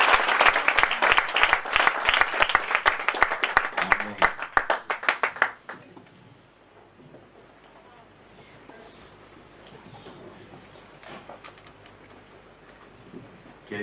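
Church congregation at an anniversary service applauding for the Lord, dense loud clapping for about five seconds that breaks off into quiet room murmur and faint sounds.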